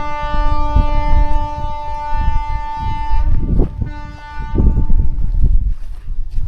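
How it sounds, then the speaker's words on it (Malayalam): A train passes nearby at Madayipara, its sustained horn-like tones ringing out loudly over a low, rumbling roar that swells and fades across the clip. "അവിടെ ഒരു ട്രെയിനിൻ്റെ സൗണ്ടൊക്കെ കേൾക്കുന്നുണ്ട്"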